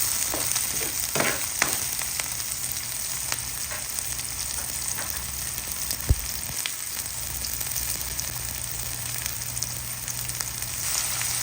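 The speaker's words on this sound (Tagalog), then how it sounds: "ang ating bawang, sibuyas, at ang ating luya. Naigigisa ko na po" Garlic, onion, ginger and tomato being sautéed in a pan for ginisang upo, a continuous close sizzle with scattered spatula clinks and scrapes, a low steady hum beneath and no voices.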